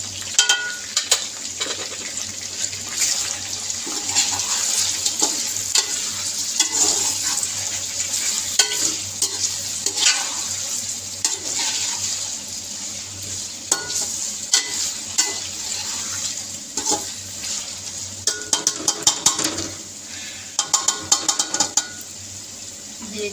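Chicken and onions fry with ginger-garlic paste in a pan, giving a steady hiss and sizzle broken by frequent scraping and stirring clatter, with a brief burst of louder tapping near the end.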